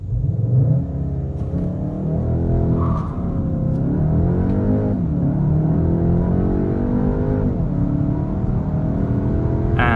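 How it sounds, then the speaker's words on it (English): A Škoda Octavia RS 2.0 TSI 245 hp launches hard under launch control, its engine droning loudly and steadily from inside the cabin as the revs climb and dip through several gear changes. "It's going to engage launch control, and then we launch."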